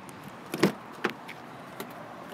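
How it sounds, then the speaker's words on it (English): Door locks of a 2015 Kia Sorento releasing at a dealership, a few soft mechanical clunks spaced apart, heard faintly at a distance against a steady background hiss. "let me go unlock the vehicle for you"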